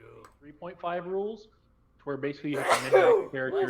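A single short sneeze bursts out partway through casual conversation, between stretches of someone talking about tabletop game rules.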